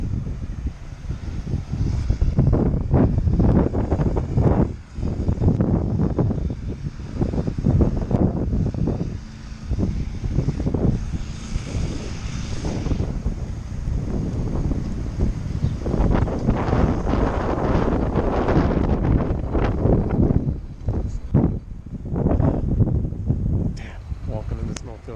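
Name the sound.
strong wind in a blizzard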